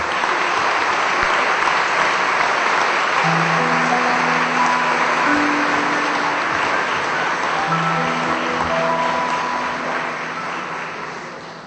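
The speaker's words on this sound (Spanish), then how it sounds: "Podemos acompañarse con un aplauso." An audience claps steadily to welcome Rabbi Mogileski at a book presentation, a dense, sustained round of applause that tapers slightly near the end, with a low sustained tone sounding faintly beneath it.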